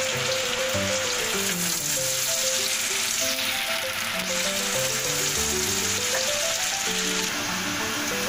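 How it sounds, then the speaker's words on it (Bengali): Chopped onion frying in a pan, a loud, steady, dense sizzle that keeps going without a break, while a melodic backing tune plays underneath and no one speaks. "আমি সে পেঁয়াজটা দিয়ে দেব।"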